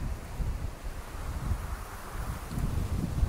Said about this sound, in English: the wind is really swirling down here